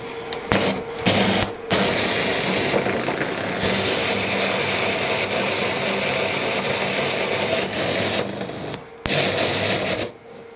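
An electric spice grinder whirs loudly and steadily while grinding a garam masala spice mix, with short stops and restarts at the start and near the end, close and alone without speech.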